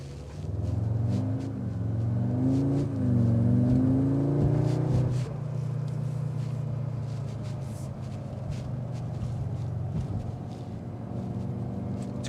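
A 2025 Audi S3's turbocharged four-cylinder pulls hard from inside the cabin, its drone rising through the gears with audible shifts during a full-throttle run, then settling into a steady rumble with no talking.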